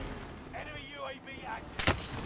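Gunfire from a first-person shooter video game: a single sharp, loud shot near the end, following a quieter stretch of game background sound.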